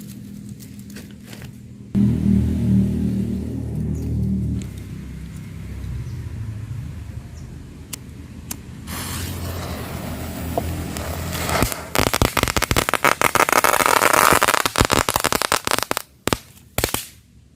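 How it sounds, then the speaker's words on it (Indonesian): A komodo egg firecracker set in a hole goes off with a heavy thump, followed by a long stretch of dense crackling bursts and rumble, loud and close, fading near the end. "itu dia tadi petasan telur komodo"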